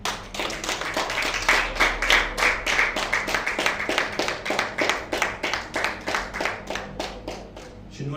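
Congregation at a church service clapping in a steady, fast rhythm, many hands together filling the room, loud and continuous with no talk over it.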